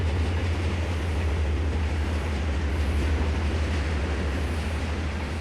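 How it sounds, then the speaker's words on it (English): A freight train passes in the Trainz railway simulator game, giving a steady, loud low rumble of rolling wagons with faint rhythmic clatter and no talking. "So here we see the freight train that is occupying everything at the moment."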